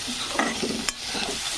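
Okra cooking in a pan with red chilli powder, salt and spices, giving a steady close sizzle and fry with stirring scrapes and a brief sharp clink partway through.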